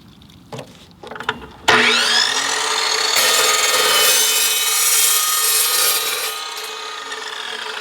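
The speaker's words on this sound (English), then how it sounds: "this saw cuts much faster than an abrasive cutoff wheel does" An Evolution chop saw cuts through metal with a loud, continuous high-pitched ringing whine once the blade engages, after a few brief clatters and a spin-up; the cutting tone holds steady to the end.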